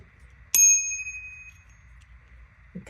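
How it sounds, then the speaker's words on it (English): A single bright ding from a new bicycle bell, struck once close by and left to ring out in a clear, slowly fading tone against a quiet room. "Oh, it's a bicycle bell."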